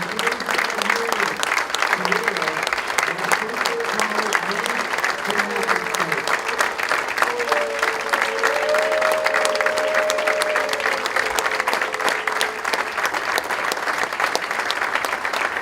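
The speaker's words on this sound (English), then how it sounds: "Let's offer a big round of applause for Steve Posner." A dinner crowd applauds a guest of honor with sustained, dense clapping, while a voice talks over the start and a brief tone rises in the middle.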